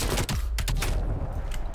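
Rapid gunfire in the video game Call of Duty Black Ops Cold War, a quick cluster of sharp bursting shots over a constant rumbling game background, loud and close.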